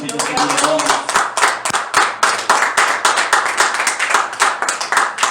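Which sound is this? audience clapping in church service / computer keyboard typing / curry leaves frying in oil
audience clapping in church service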